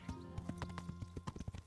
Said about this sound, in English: Look at that horse go. Look at it strut.